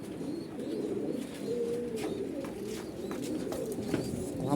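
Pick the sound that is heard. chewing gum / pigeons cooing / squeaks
pigeons cooing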